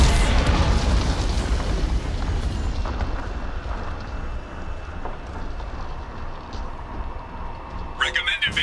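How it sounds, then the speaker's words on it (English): An explosion from Geth cannon fire in the game Mass Effect 2 opens with a heavy, loud boom. It fades into a long, low rumble, and a brief crackle of debris or static comes near the end. "Warning, Geth cannon is locking on our location."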